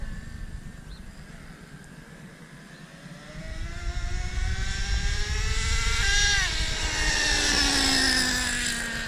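A Traxxas Revo 3.3 nitro RC monster truck engine revving up, its high buzzing whine climbing in pitch, dipping briefly at a gear change and then rising again, loud and close with no talk.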